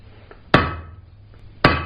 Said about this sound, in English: I'm using the flat side of my hammer, the flat face, I should say